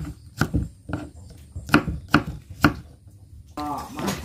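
Unpeeled ginger being chopped into large chunks on a board, a rapid series of close, hard knife thuds in irregular bursts, followed by a brief voice at the end.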